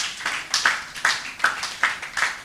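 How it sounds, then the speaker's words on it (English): Audience at a MindTalk event on the future of food production claps together in a rhythmic round, a handful of sharp, evenly spaced bursts roughly every half second, with no talk over them. "A round of applause for them."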